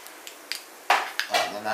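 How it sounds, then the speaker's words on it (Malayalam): Mustard seeds pop in hot oil while brinjal thoran is being made, giving a few sharp, close crackles and spits that grow denser toward the end of a short moment. "അടിപൊളിയായിട്ട് നമ്മുടെ കടുക് പൊട്ടിയിട്ടുണ്ട്"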